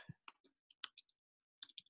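Sparse, faint clicks of someone typing on a computer keyboard, a few isolated keystrokes separated by silence.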